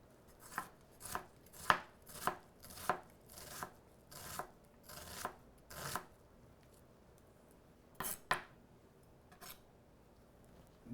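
A knife dices red onion into small pieces on a cutting board: a steady run of about a dozen crisp, close chops, a short pause, then a few more quick cuts.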